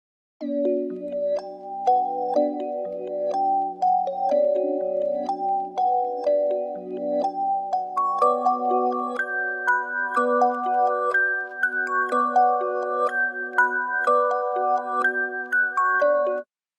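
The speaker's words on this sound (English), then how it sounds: "this is what the bells sound like" A bright, catchy bell melody rings out steadily, its tones chiming in a simple repeating pattern that shifts higher partway through, with no voices.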